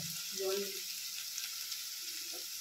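Semolina frying in a pan for upma gives a steady, soft sizzle throughout, with a brief faint voice murmuring over it in a home kitchen.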